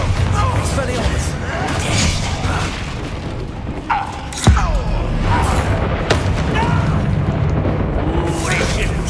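Confringo and Bombarda explosion spells in the Hogwarts Legacy video game, with loud booming blasts and crashes over a dense, busy combat soundscape, and a single sharp impact partway through.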